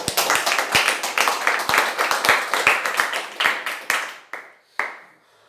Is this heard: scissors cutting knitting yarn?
no